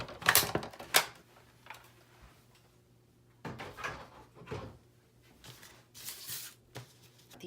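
Scissors snip through mint macaron card stock in short, crisp bursts, a couple of sharp cuts early and more after a pause, quiet and close with soft rustling of paper between.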